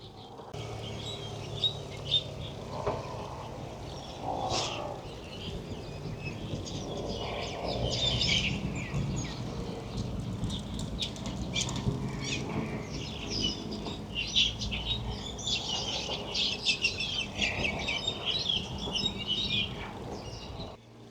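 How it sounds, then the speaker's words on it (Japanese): Birds chirp and call outdoors in a mountain and river setting, faint scattered tweets over a steady bed of wind and rushing ambience that lasts throughout. "今ね、鳥の鳴き声がちょっと聞こえます。"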